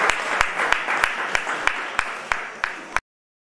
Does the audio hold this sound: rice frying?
no